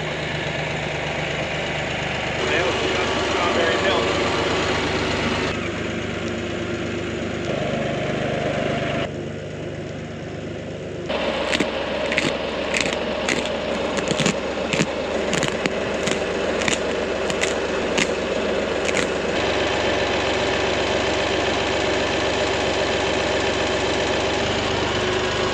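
Farm tractor engine running steadily, a loud continuous mechanical drone that shifts in tone several times, with a burst of sharp rhythmic clicks or rattles in the middle.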